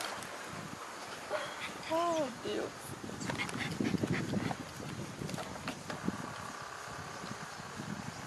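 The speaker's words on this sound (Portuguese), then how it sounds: "E aqui o cachorrinho olhando." A small dog near a farm church in open pasture gives a few short yelps and whimpers among outdoor ambience, with children and other voices in the background.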